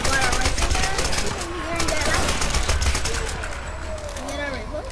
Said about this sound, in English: You unlock these guns quite early in the game.